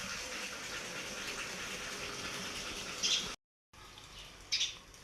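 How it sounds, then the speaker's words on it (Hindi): Household electric water pump motor running nearby, a continuous hissing rush of pumped water with a steady drone, briefly cut off, with faint bird chirps. "पानी की वाली मोटर का हो रहा है शोर।"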